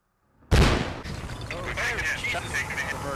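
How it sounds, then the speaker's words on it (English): An RPG rocket launches in Squad, a sudden loud blast out of near silence followed by a trailing roar and distant rumbling battle, with voices talking underneath. "First shot coming out. RPG."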